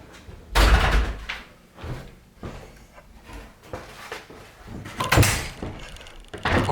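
A front door is opened and closed at home, with heavy thuds, rattling handle and latch noises, and a firm slam near the end, loud and close with no clear talk.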